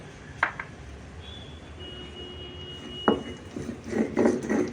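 Garlic chutney with chilli and salt being ground by hand on a stone pata with a varvanta, giving faint scraping and rubbing strokes with a few sharp knocks of stone on stone, louder toward the end.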